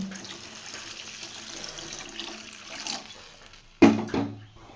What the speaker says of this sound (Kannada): ಪ್ರಮಾಣ ಎಷ್ಟು ಬೇಕೋ ಅಷ್ಟು ನೀರು ಹಾಕ್ಕೋಬೇಕು ಗೊಜ್ಜಿಗೆ